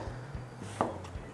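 Knife cutting radish into long thin strips about 5 mm thick on a cutting board, a few soft, irregular chopping taps close up over a faint background hum.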